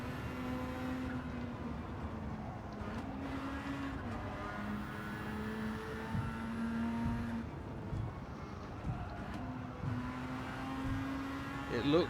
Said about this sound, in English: Just pulsing the throttle there as we cut into the corner.